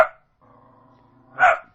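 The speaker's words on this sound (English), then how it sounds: "That's just my dogs. Ignore them." Several dogs bark indoors in two short bursts, one at the start and a louder one near the end, with a faint tonal hum between them.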